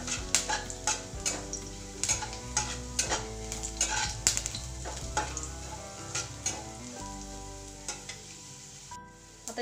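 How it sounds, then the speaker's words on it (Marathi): Garlic sautéing in hot oil with curry leaves in a pan, a steady close sizzle broken by frequent sharp clinks and scrapes of a spatula against the metal. "लसूण थोडासा परतून घेऊया."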